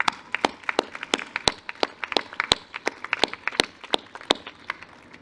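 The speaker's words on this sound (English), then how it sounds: "Let's give them a big round of applause." Scattered audience applause at a 2021 high school graduation ceremony, with sharp individual claps ringing out irregularly and fairly close, steady for several seconds with no talking over it.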